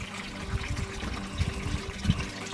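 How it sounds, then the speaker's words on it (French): Water discharged by a 2000 litres/hour pump pours and splashes continuously, a close, steady rushing flow with small gurgling surges. "j'ai une pompe de 2000 litres/heure,"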